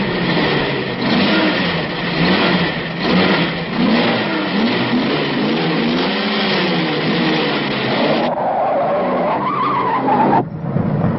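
Cars rev loudly and tires skid at a drag race in a film scene, with engine roar and squealing rubber continuing throughout, then tapering into a lighter tonal sweep near the end.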